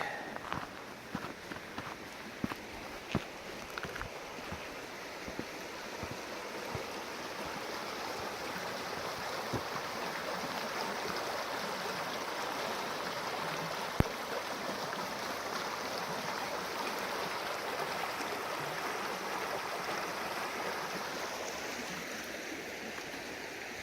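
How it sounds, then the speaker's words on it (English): Steady broadband rush of flowing creek water, running low in drought, fills the whole stretch, with a few soft scuffs and footsteps near the start. "Just got down to the creek."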